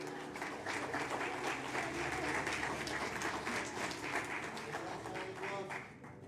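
A church congregation applauds during a pastor's sermon, a dense, continuous wash of many hands clapping at an even level throughout, easing slightly at the very end, with no voices rising above it.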